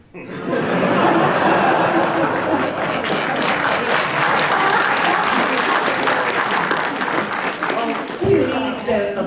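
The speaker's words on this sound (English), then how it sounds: "Please don't applaud his joke." Sustained applause mixed with chuckles and laughter from a convention audience at a Doctor Who guest interview, loud and steady throughout before cutting off near the end.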